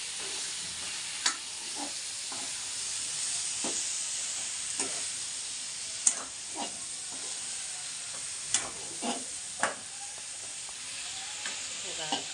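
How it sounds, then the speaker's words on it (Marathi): Brinjal pieces fry in a spiced masala, a steady soft sizzle running throughout while a spoon scrapes and stirs the pan in scattered, irregular taps and clinks, quiet and close. "आता हे जरा फ्राय करून घ्यायचं मसाल्यामध्ये"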